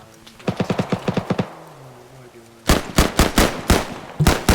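Enemy heavy machine gun fire in a military video game, heard as two loud, rapid, rhythmic bursts of shots separated by a short pause in which a voice calls out.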